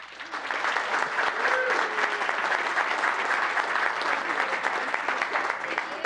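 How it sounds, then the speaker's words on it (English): A room full of people in town council chambers breaks into a big, sustained round of applause, loud and dense from start to finish, with some voices mixed in. "you're going to hear a big round of applause, and that's to cheer you on"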